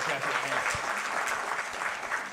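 Studio audience applauding on a live Kenyan TV talk show, a steady dense clatter of clapping that holds at one level from start to finish.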